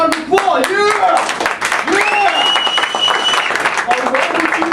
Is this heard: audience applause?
yes